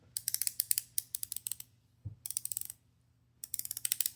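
Crisp ratcheting clicks from turning the bezel of a Longines HydroConquest 44mm watch, heard close up in three quick bursts of rapid clicks separated by short pauses, with a soft bump in between.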